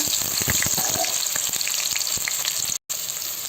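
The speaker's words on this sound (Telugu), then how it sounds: "ఈ ఉర్లగడ్డలు పచ్చివాసన పోయేంత వరకు నూనెలోనే వేయించుకోవాలి." Potatoes and green beans with mustard seeds and a little chana dal fry in hot oil for rava khichdi, giving a continuous close sizzle with scattered pops and a brief cut-out partway through.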